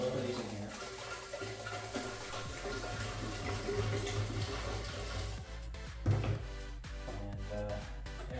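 Liquid pours steadily into a fermenter for a grapefruit beer homebrew, a continuous splashing gurgle that runs throughout, with a few clunks near the end.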